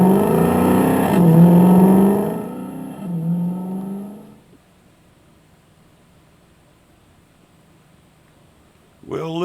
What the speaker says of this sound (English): That baby buggy dragster of Cookies lined up